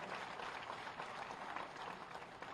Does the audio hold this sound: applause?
yes